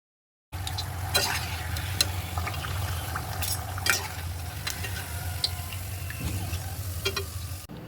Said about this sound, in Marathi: आता आपण शेपने जरा मोठ्या पुऱ्या तळणार आहोत